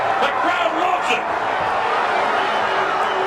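A boxing crowd cheers during a late-round exchange between Artis Pendergrass and Larry Donald, a steady roar of voices in a large arena heard under a commentator's excited talk.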